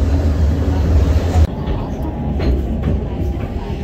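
A Kolkata Metro train runs underground toward Dum Dum, its loud steady rumble and rail roar filling the carriage. A sharp shift partway through changes the tone, and voices talk faintly under the noise.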